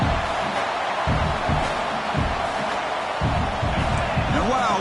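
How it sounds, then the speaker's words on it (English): Roaring stadium crowd noise in the College Football 26 video game, a loud continuous wash of fans with rhythmic low thumps and surges throughout, under an ongoing voice. "Listen to this crowd noise. This stadium is vibrating."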